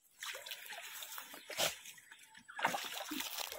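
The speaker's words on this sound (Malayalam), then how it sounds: "ഷാബി പെണ്ണ ഇളക്കല്ലടാ, വെള്ളം തേവട്ടടാ" Water splashes and sloshes as a channel is bailed out for fishing, a few soft scooping splashes heard faintly and close.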